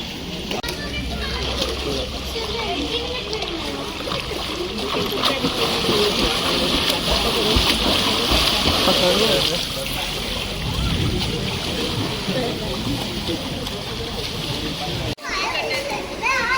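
Steady splashing in a hotel swimming pool on a morning, mixed with children playing and people talking throughout at close range.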